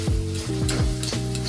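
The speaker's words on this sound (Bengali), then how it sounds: "এরপরে আমি দই দিয়ে দেবো। আস্তে আস্তে আমি নাড়তে থাকবো।" Curd being stirred into a mustard, sesame and cashew paste in a frying pan, a loud steady sizzle with a few slow rhythmic scraping strokes of the spoon, close up and free of talk.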